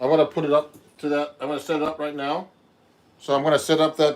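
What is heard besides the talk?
None of the usual background noises is heard.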